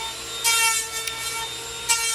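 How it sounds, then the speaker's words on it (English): A Skil 100 power planer shaping surfboard foam whines at high pitch with a steady rasp, surging in short loud passes as it cuts, close by. "you can see me planing away with my Skill 100 planer"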